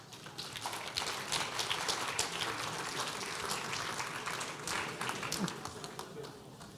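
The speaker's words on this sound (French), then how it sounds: "On peut l'applaudir." Audience at a French press innovation awards ceremony applauding; fairly faint, dense clapping that continues steadily throughout with slight swells.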